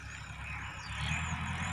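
A farm tractor running while plowing sunn hemp into the soil as green manure on a mixed farm; a steady, nearby low engine drone that holds throughout.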